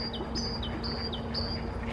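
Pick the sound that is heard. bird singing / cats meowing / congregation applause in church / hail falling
bird singing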